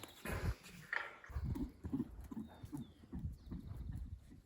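Faint, rhythmic hoofbeats thud steadily, like a young untrained horse trotting at a distance in Ecuador, with a brief higher call near the start.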